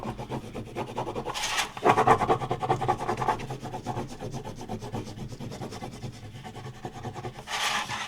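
A wooden popsicle stick scrapes over a thin Dollar Tree metal envelope, giving close, raspy rubbing strokes that swell into louder bursts and then ease off.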